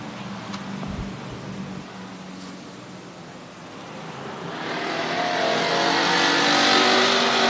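Race cars hot lapping a track on Turkey Night, engines droning at a distance and then swelling louder as a car accelerates nearer, ending in a strong roar with no voices.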